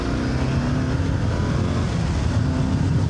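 A Yamaha Super Tenere 750 motorcycle rides along a rural road, its engine droning steadily and continuously with rushing wind noise throughout, close and loud, no talking.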